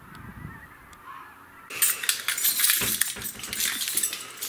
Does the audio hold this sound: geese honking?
yes